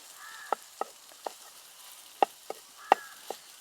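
Beaten egg frying in a pan for Kerala-style mutta chikkiyathu is broken into large chunks with a spatula, giving sharp scraping taps at an uneven pace over a faint, steady sizzle.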